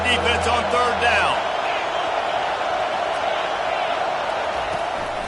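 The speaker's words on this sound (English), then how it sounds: "Decibels rising as the crowd gets behind this defense on third down." A football stadium crowd at a Utes versus Wisconsin game roars continuously on a third-down defensive stand, a loud, sustained wash of cheering under a commentator's voice, with some sharp sounds early on.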